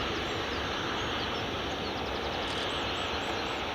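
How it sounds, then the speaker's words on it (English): A KLM Boeing 737-800 airliner at Glasgow Airport: a steady, broad jet roar fills the air at a moderate distance, continuous and even throughout, with faint chirping over the top. "KLM 737-800."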